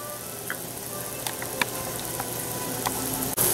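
Onions and tomato paste sizzle softly in a pan over low heat, a steady gentle frying hiss with occasional small pops and a utensil tap near the end.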